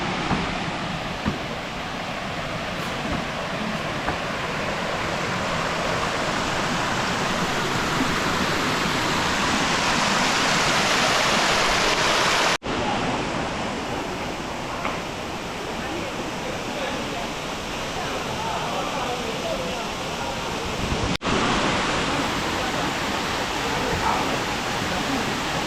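Munthal Falls near Punnaiyapuram in Tamil Nadu sends water crashing down in a loud, unbroken roar that stays close and fills the whole stretch with dense rushing noise.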